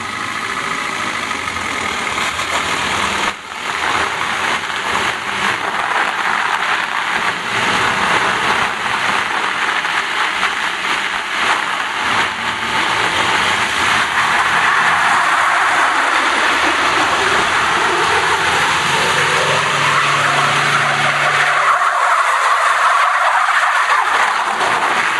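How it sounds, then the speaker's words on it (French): Renault Clio engines rev and strain continuously on summer and winter tyres, with whining tones rising as the cars pull away uphill on an icy track, loud and steady throughout. "premier test, démarrage en côte, cette fois donc avec des Clio."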